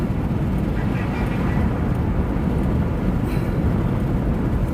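A loud, constant low roar of helicopters flying overhead fills the air, dense and steady, with no distinct voices.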